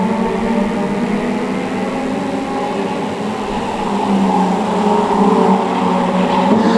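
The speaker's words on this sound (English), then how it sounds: "The cars come into the home straight once more." Stock rod race cars roar past at Cowdenbeath Racewall, a loud, steady, blended engine drone from the oval that swells slightly toward the end, with no voices audible.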